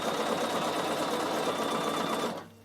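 Sewing machine zigzag stitching through wool felt, a steady close, fast mechanical whirring chatter running continuously for over two seconds before stopping abruptly.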